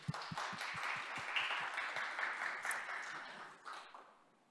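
Audience applause at a youth governance results report, a short burst of scattered claps that quickly thickens into steady clapping, fairly faint and distant, fading out after about four seconds.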